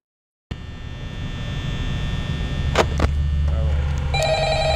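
A telephone rings in the Five Nights at Freddy's video game, with repeated electronic trilling bursts over a steady mains-like hum and game ambience, and a few bright tones at the end.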